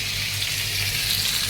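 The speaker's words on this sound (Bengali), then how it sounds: "মাছটি রান্না করবো, কড়াই বসিয়ে দিচ্ছি" Fish sizzles in a hot oil-filled wok (kadai), a dense, even frying hiss that stays loud and close for the brief moment.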